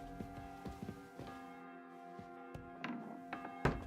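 A church-style bell rings in Kingdom Come: Deliverance 2, sustained tolling tones over several soft taps and thunks at a moderate, even level.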